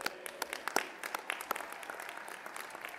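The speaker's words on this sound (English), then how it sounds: "Give yourself a huge round of applause." Graduates and guests at a university Ph.D. ceremony give a round of applause, a fairly faint, scattered spatter of clapping heard from a distance with no talk.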